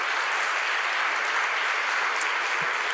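Church congregation clapping together in sustained, dense applause that fills the room evenly throughout, with no break or voice rising above it.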